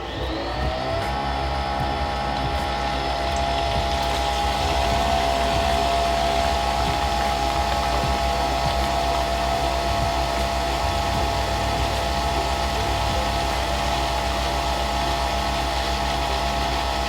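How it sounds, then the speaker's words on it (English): Milk is steamed for coffee beside a Nespresso Vertuo machine, giving a loud, continuous hissing, whooshing roar that holds steady throughout with no talk. "And we're gonna steam our milk at the same time."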